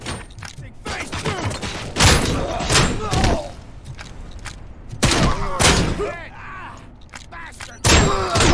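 Loud bursts of explosions and gunfire from the RoboCop: Rogue City video game, several heavy blasts arriving in waves with someone talking over parts of the action.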